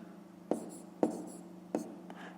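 A pen scratches and taps on paper while someone works a math exercise, three sharp strokes with short scratchy tails standing out over a low steady background hum.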